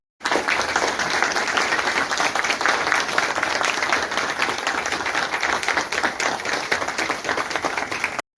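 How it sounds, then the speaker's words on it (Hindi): Loud, steady applause from an audience at the closing ceremony of a residential training programme, dense clapping sustained for about eight seconds without a break. "आप सभी का हम स्वागत करते हैं एक बार जोरदार तालियों के साथ।"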